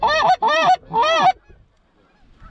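Geese honk loudly and close by, three harsh, nasal calls in quick succession during a goose hunt, followed by near silence.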